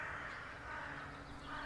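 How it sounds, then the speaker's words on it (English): Several crows caw faintly from a distance over a steady wash of outdoor background noise. "I can hear a few crows croaking in the distance now"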